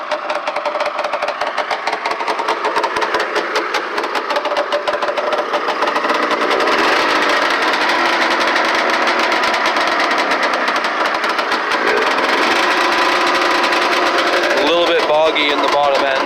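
A Ski-Doo Blizzard 9700 series snowmobile engine runs steadily and loudly at close range with a rough, rapid mechanical chatter that holds throughout, while a person talks over it.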